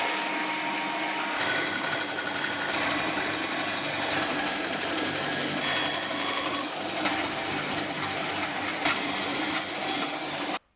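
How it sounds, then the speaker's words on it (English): A bandsaw cuts away the waste from a hand-cut wooden dovetail joint, a steady, loud whirring and rasping drone that runs continuously before stopping abruptly. "let's take this over to the bandsaw and get that going"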